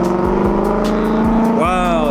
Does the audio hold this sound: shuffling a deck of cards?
no